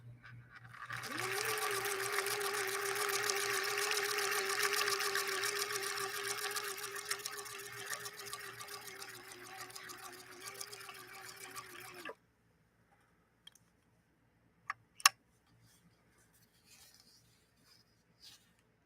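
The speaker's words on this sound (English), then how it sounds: "we're sewing using a 9014 leather needle by Schmetz" A Viking Husqvarna 19E sewing machine stitching with a Schmetz 9014 leather needle runs for about eleven seconds as a steady rhythmic whirring hum. It then stops abruptly, followed by a few faint clicks and taps.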